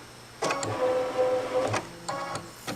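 A sewing machine runs marking stitches through fabric for a tooth fairy pillow in short whirring bursts, three or four close, mechanical runs separated by brief pauses.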